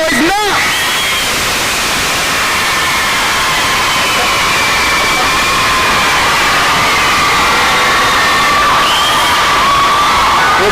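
A school debate audience in a UK parliamentary-style event cheers, shouts and whoops loudly for the full stretch, a dense sustained roar of many young voices with high-pitched yells on top.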